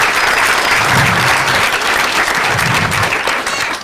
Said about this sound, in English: I'd really like a round of applause